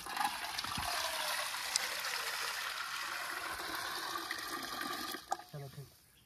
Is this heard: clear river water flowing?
yes